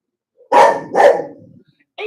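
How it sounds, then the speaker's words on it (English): A dog gives two loud, close barks in quick succession followed by a short softer yip, with no talk over them. "Don't bark."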